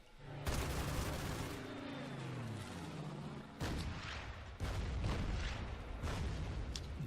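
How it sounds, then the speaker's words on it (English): Artillery counter-battery fire in a WWII strategy game set around Alam Halfa in a sandstorm: a run of heavy booming impacts and gunfire blasts, loud and close, with a descending whine early on and several sharp reports later, no talk. "Man, their counter battery fire is just brutal."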